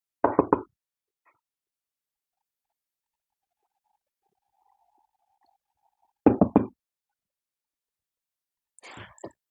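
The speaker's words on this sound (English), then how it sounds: "they hear a really loud knock on the door" Loud knocking on a door, two tight clusters of three or four rapid raps separated by several seconds of near silence, with a faint scuffling sound near the end.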